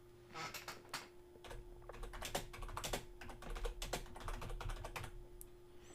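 Fingers type on a computer keyboard while editing web page text, with quick bursts of close, crisp key taps in irregular runs over a faint steady hum.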